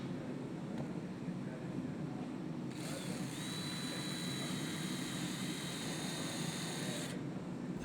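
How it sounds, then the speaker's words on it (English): A power drill whirs steadily for a few seconds while pre-drilling holes in a gazebo cupola base, rising in over background hum and then cutting off. "Pre-drill 4 holes in the cupola base."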